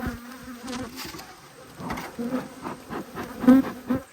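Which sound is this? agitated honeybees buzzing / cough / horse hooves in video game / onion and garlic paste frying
agitated honeybees buzzing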